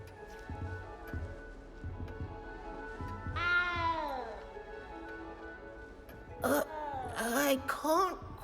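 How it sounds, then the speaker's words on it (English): A cat in the video game Hogwarts Legacy meows, a rising-falling cry midway followed by a cluster of louder, strained meows near the end, over a steady game ambience. "You don't need to be frightened, little cat."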